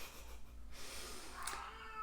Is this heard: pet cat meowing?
yes